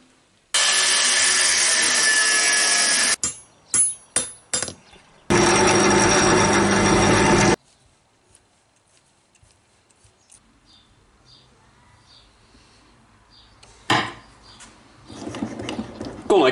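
A power saw cuts out wooden pieces for beam engine connecting rods in two loud, steady bursts, with short clicks between them, then near silence and light handling noises afterward.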